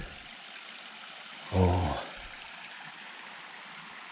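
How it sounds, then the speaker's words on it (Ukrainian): A small mountain stream flows in the background, a soft steady rush of water, while a voice briefly speaks once in the middle. "Гірський струмочок."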